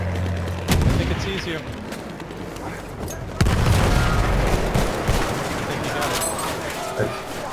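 An anti-tank gun fires in Battlefield 1 on the Sinai Desert map, with loud booming shots and reverberating battlefield gunfire around it, while players talk over the action.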